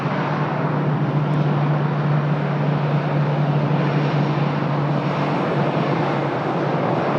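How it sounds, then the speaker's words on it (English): A Transavia France Airbus A320 airliner at Lisbon Airport gives a steady, broadband jet roar with a low hum, constant and fairly loud throughout, with no voices. "Na cauda e nas letras a dizer Transavia, um bocadinho maiores. France, Airbus A320."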